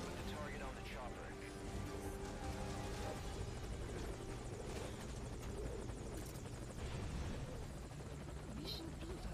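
A helicopter in the Metal Gear Solid V: Ground Zeroes video game gives a continuous loud rotor thrum and engine whine that fills the whole stretch without pause.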